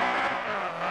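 Honda CR-X race car in the Forza Horizon video game, its engine roaring steadily and loudly under acceleration in a brief continuous burst.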